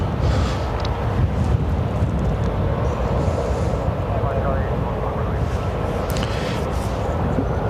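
Ryanair airliner taxiing at Lanzarote Airport, a steady broad engine roar heard from outdoors with wind buffeting the microphone and people talking over it.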